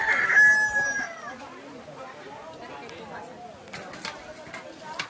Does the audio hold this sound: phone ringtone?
no